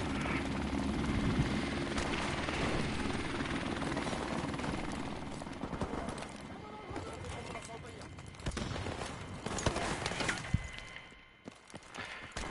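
A helicopter in a Call of Duty match keeps up a steady chopping roar through the scene. Gunfire and voices mix in, and the sound thins out briefly near the end.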